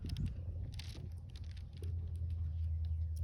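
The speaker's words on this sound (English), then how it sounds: "Very loud car." A loud car passing on a road just outside, a steady low engine rumble that swells toward the end, with faint chatter and small noises mixed in.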